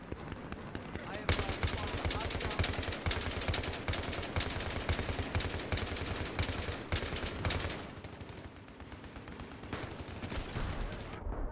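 Dense, continuous automatic gunfire in a video game, rapid rattling bursts close and loud for most of the stretch, briefly easing then resuming, with voices talking underneath.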